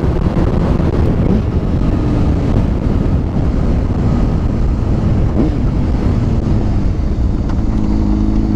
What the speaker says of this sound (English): I guess the wind is still pretty decently rough.